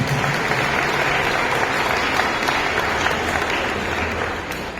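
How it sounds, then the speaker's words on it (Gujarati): An audience at a community gathering bursts into loud, sustained applause, a dense wash of many hands clapping close and steady before tapering slightly at the end. "એક વખત જોરદાર તાળીઓ તેમને વધારી દે"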